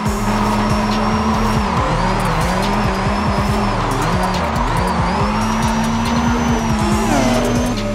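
An Aston Martin Valhalla in Forza Horizon 5 drifts with loud, continuous tire squeal over a revving engine, the pitch of the engine rising and dropping through gear changes.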